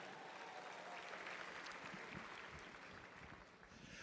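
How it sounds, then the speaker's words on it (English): An audience at a school district leadership conference applauds, a full, even roll of clapping from many hands sustained for about four seconds, faint in level and without talk. "Let's give a round of applause, please."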